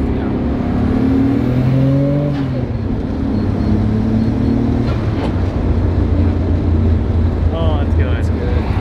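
Nissan Skyline R32 GT-R, a Japanese-built Top Secret car, drives with a steady loud engine drone and rising gear-change pitches, plus road and cabin rumble, while people talk over it.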